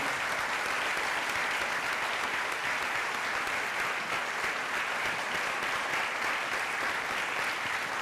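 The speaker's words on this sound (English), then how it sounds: "Let's give all of our candidates a huge round of applause." Sustained audience applause at an all-candidates ward meeting in London, Ontario, a dense even clapping that holds steady and loud for the full eight seconds with no talk over it.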